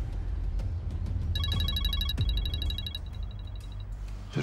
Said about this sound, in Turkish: Bir saattir telefonu çalıyor ya.